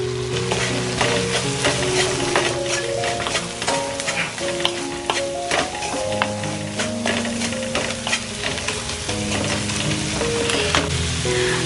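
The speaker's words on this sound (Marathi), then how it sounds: "पहा आपला मसाला फ्राय झालेला आहे" Masala frying in a pan for shengsola, stirred continuously with busy scraping and clattering strokes over a bright sizzle, with music playing underneath the whole time.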